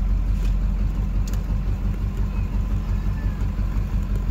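A car engine idling during a driving lesson, a steady low rumble heard from inside the car, close and constant throughout, with no talk over it.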